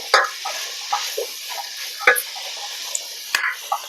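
Green chilies and bitter gourd fry in a pan for a Kerala thiyyal, a soft steady sizzle under sharp spoon clacks and scrapes against the pan, three of them loud, with no voices.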